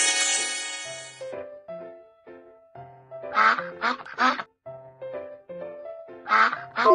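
In a children's cartoon animal-sound guessing game, a duck quacks in two loud clusters of harsh, raspy quacks, one in the middle and one near the end, with soft plinking music in between.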